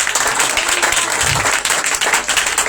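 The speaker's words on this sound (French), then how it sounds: "Est-ce que tu peux acclamer très fort pour le Seigneur?" Audience at a Feast of Tabernacles (Sukkot) church gathering bursts into dense, steady applause and cheering, loud and sustained throughout with no pause.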